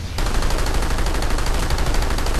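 Rapid automatic gunfire in the online shooter PlanetSide 2, a loud continuous burst of fast, evenly spaced shots running unbroken.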